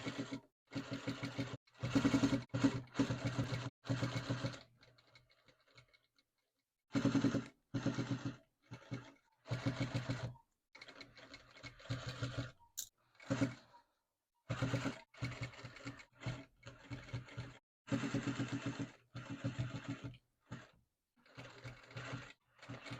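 A sewing machine stitches a glove lining in repeated quick bursts of rattling whir, each run lasting a second or two with short pauses between, close and fairly quiet.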